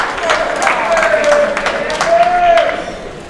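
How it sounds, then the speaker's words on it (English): An audience at a high school swimming and diving meet applauds a diver, with sustained crowd clapping and a whistle-like tone over it, while an announcer's voice talks through it. "but she's getting a huge round of applause"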